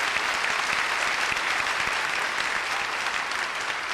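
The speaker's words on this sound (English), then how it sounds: "I think that deserves a nice round of applause for a lot of hard work." A live audience applauds a pianist with dense, sustained clapping that stays even and full for several seconds, heard from within the crowd.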